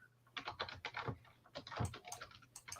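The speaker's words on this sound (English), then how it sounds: "I'm typing to him." Fingers type quickly on a computer keyboard close to the microphone, giving a dense run of light clicks and key taps in uneven bursts with no speech.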